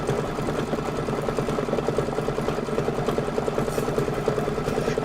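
An embroidery sewing machine stitches a decorative pattern with a steady, rapid mechanical chatter. The sound stays close and even throughout, and nobody speaks.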